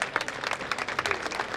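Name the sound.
audience applause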